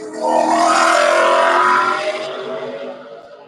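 A NASCAR Xfinity race car roars past on a racetrack, its engine note building loudly then fading away over a few seconds, with no voices.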